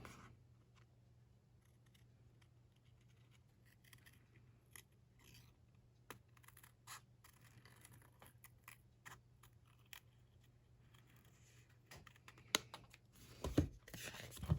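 Hand-held scissors snip through paper, cutting out a Christmas paper piece with a thin black border, in a string of faint, sparse clicks and crisp cuts over a low steady hum, growing a little louder near the end.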